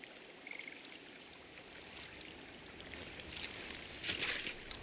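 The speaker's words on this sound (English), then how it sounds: "Sounds like he's peeing." Water trickles and splashes steadily in a Final Fantasy XVI game scene, resembling a character urinating, a soft continuous stream that swells a little louder near the end.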